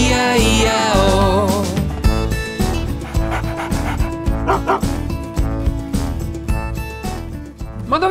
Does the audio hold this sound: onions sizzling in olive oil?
no